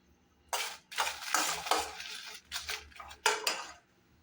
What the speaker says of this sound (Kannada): ನಾನು ಕಪ್ಪು ಎಳ್ಳನ್ನು ಹಾಕೊಳ್ತಾ ಇದ್ದೀನಿ. ಇದಕ್ಕೆ ನಾನು ಒಂದು 4 ರಿಂದ 5 ಬ್ಯಾಡಗಿ ಮೆಣಸನ್ನ ಸೇರಿಸಿ ಚೆನ್ನಾಗಿ ಹುರ್ಕೊಳ್ತಾ ಇದ್ದೀನಿ